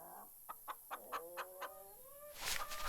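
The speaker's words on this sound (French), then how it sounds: "Elle donne à manger aux poules." Hens clucking in a rhythmic series of short calls, close and clear, while being fed, with a louder flurry of squawks near the end.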